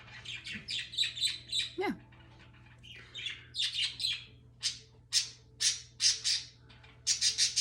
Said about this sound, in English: My budgies are going crazy,